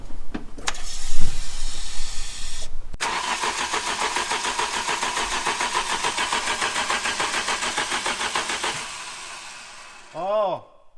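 A Merguez 3.0 car on a dyno, aiming for 400 horsepower, cranks briefly, then catches and runs with a loud, steady engine rumble for several seconds before cutting out. A short whining sound follows.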